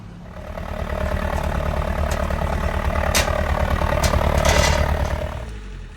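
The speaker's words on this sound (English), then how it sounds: "this engine, as you know, has not been used in a very, very long time" An old narrowboat engine, unused for a very long time, runs close by with a heavy, low, rhythmic chugging and metallic clatter, growing slightly louder before easing off, with no speech.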